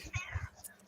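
A house cat meows close by in a short, bright call that rises and falls, with a couple of soft low thumps around it.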